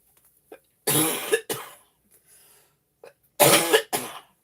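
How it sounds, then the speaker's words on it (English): Two close, loud bursts of coughing, each a pair of rough hacking coughs, separated by a short quiet pause. "Pardon my coughing."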